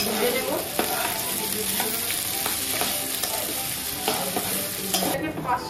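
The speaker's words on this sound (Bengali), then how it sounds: "সব কিছুকে একসঙ্গে আমি কিছুক্ষণ ভেজে নেব।" Rice with chicken and spices fries together in a pan for pulao, giving a steady close sizzle with scraping stirs and soft utensil knocks throughout.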